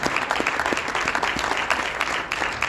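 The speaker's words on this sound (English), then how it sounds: "Round of applause." Audience at a State of the City address in Atlantic City claps steadily in a dense, sustained round of applause, a crowd of many hands filling the room.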